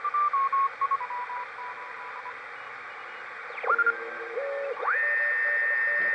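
Morse code CW signals tuned in on a Heathkit HR-10B ham band receiver: short keyed tone bursts at the start, then sweeping whistles and steady beat tones as the dial moves, all over a constant bed of hiss.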